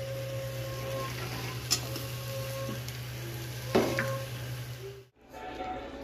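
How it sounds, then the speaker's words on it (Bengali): Potatoes frying in a little oil in a pan, a soft steady sizzle with occasional louder bursts when stirred, over a constant low hum from a nearby appliance, ending in a brief silence. "এই যে আলু ভাজা হবে।"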